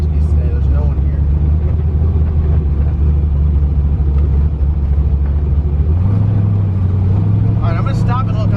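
An LS-swapped twin-turbo Fox Body car drives along with a steady, loud low engine rumble that shifts up in pitch partway through, with people talking over it.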